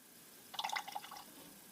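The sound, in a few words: excess transmission fluid draining from Toyota drain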